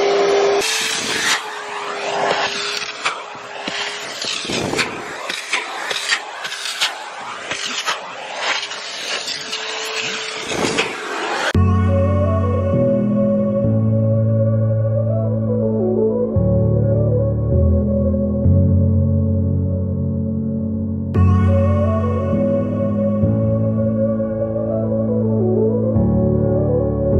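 A vacuum cleaner runs loud and steady in a bedroom with bumping and brushing noises for about eleven seconds, then stops abruptly as music takes over.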